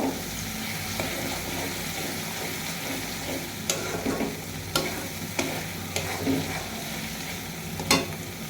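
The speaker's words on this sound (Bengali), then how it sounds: "সব শেষে এলাচ দারুচিনি দেব। ভালো করে মশলাগুলোকে ভেজে নিব।" Cardamom and cinnamon fry with other spices in hot oil in a pan for a spicy goat liver bhuna, giving a steady close sizzle broken by sharp spoon clicks and scrapes against the pan.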